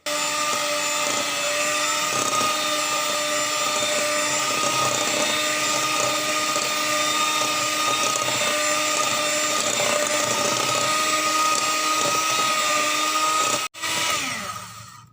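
An electric hand beater whirring steadily through date cake batter, a loud continuous motor whine with a gritty buzz that runs without a break for over thirteen seconds before cutting off abruptly, no voices.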